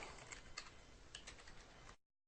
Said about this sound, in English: So I type in there the name